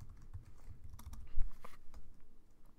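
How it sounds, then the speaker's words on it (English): Fingers tap out a line of code on a computer keyboard, a close, irregular run of quick key clicks with a few heavier thumps. "My typing is not the best, I'm sorry."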